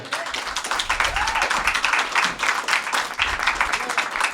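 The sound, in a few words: audience applauding podcast guests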